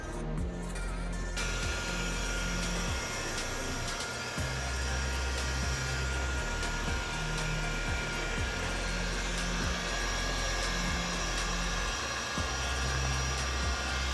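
A heat gun blows hot air over tint film on a VW Jetta tail light, a steady whooshing roar with a low motor hum that holds constant throughout, close and fairly loud.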